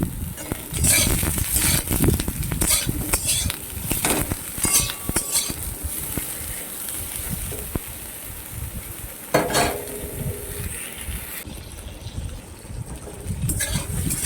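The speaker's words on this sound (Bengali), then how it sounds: "আর ওই তেলের মধ্যেই আমি দিয়ে দিলাম বেগুনগুলো, কেটে রাখা বেগুনগুলো। বেগুনগুলোকেও আমি লাল লাল করে ভেজে নিই।" Sliced eggplant (brinjal) frying in hot oil, a close sizzle broken by repeated clinks and scrapes of a utensil against the pan as the pieces are stirred, with no voices.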